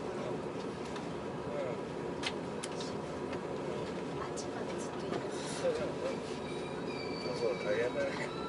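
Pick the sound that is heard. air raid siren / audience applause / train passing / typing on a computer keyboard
train passing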